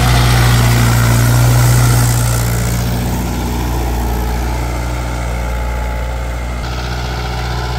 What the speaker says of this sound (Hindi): और आवाज़ चेक करो जी ट्रैक्टर।